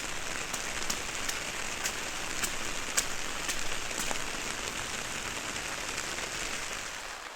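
Steady rain falling outdoors on a street, splashing into water, recorded with a Zoom F3 and DPA 4560 microphone; a dense, continuous hiss of drops with sharper close patters and splashes throughout, no voices.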